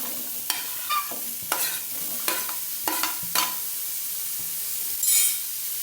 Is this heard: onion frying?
yes